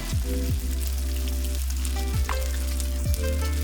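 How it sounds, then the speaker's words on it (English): Tofu pieces fry steadily in hot oil in a pan, giving a continuous close sizzle, with a few soft clinks or taps from the utensils. "When the bottom is golden, you can flip it and fry the other side."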